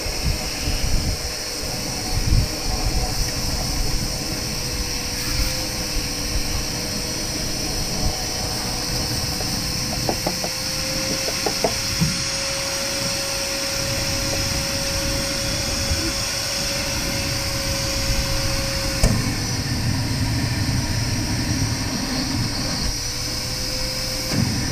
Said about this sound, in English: I've got a little tiny vacuum here.